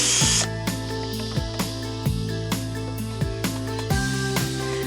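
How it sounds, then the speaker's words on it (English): A power tool unscrews a screw from a wooden bed top, its motor whirring under a steady run of ratcheting clicks, close and loud without talk. "So the first job is to unscrew the top."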